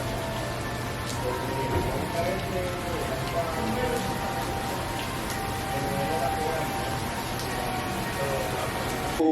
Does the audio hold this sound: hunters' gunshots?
no